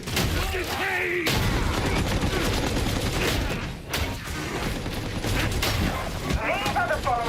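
Shotgun fire and other guns boom in repeated loud blasts during a Darktide fight, mixed with in-game voices shouting over the gunfire.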